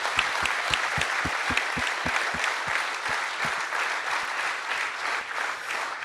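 An audience at a trades skills competition event applauds a European medal winner in the Abilympics, a steady, moderately loud wave of clapping with a few close, sharp individual claps standing out at the start, gradually easing.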